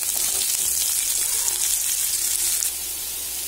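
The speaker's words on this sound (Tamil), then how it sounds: "பூண்டு நல்லா ரோஸ்ட் ஆக ஆரம்பிச்சிருச்சு." Garlic roasting in hot oil for a Tamil garlic kulambu, a steady dense broadband sizzle and crackle that runs continuously and close, easing slightly near the end, with no talking.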